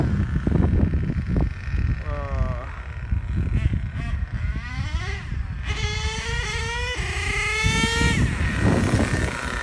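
An HPI Savage RC car fitted with an LRP 32 spec 4 engine whines at top speed, its nitro engine note rising and falling in several loud sweeping passes over a steady background noise.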